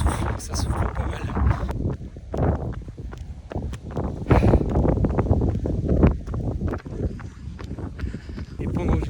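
Strong wind buffets the microphone of someone running outdoors, loud gusty rumbling with rhythmic thuds of footsteps underneath, and someone talking over it.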